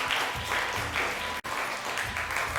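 Studio audience at a Ramzan special television transmission claps in a lively, continuous burst, briefly dipping for an instant before resuming at full strength.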